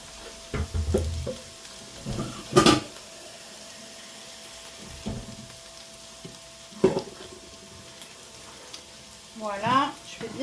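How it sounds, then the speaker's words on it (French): Garlic and onion fry gently in a pan, a low sizzle broken by several scraping stirs and knocks of a utensil against the pan, with faint voice sounds in the background. "je fais bien revenir par contre l'ail et l'oignon"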